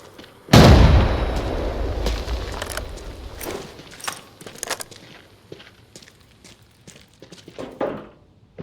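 A grenade explosion in the shooter Arena Breakout: Infinite, a single loud close blast with a long rumbling decay, followed by scattered footsteps, thuds and distant gunfire, with no talk over it.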